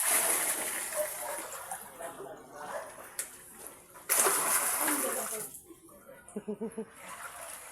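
Knee-deep floodwater sloshes and splashes as someone wades through it, irregular surges of water movement near the listener, with a short run of rhythmic splashing steps near the end.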